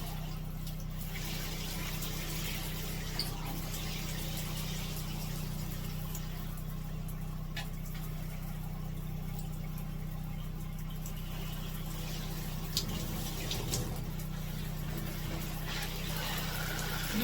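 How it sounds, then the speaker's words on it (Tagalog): Water rushes in a strong, steady flow, a continuous hiss and gurgle with a low mechanical hum underneath, unchanging throughout. "lakas ng tubig, oh."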